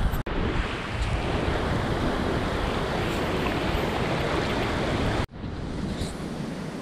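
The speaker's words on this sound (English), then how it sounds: "and we got the river right here." A river flows beside a campsite near Little Bayhorse Lake, a steady broadband rushing of water, close and continuous, with a brief dropout near the start and a sharp break shortly before the end.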